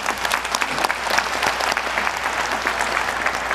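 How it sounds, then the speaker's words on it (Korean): Audience clapping at a defense strategy committee meeting, brisk, dense applause that holds steady and fairly close throughout. "여러분 큰 박수 부탁드립니다."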